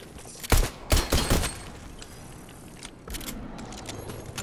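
Gunfire from an SMG in the video game Fortnite: a quick cluster of sharp, loud shots in the first second and a half, then low game ambience with a fainter burst near the end.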